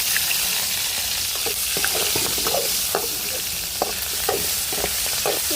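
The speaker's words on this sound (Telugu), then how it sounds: "చికెన్ ముక్కలు మొత్తం అయితే ఈ విధంగా ఫ్రై అయింది కదా" Chicken pieces, including leg pieces, frying in a pan for kaju chicken curry, a loud, dense, continuous sizzle with scattered spatula scrapes and clicks on top, close and steady, with no voices.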